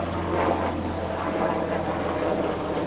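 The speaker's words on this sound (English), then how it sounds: "Got a stinking helicopter flying over while I'm filming" A helicopter passes over a creek, its steady low rotor drone and engine hum holding loud and even throughout with no talk.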